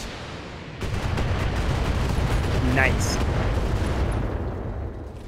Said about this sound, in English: I'm going to precision strike it again, because I want to take out this torso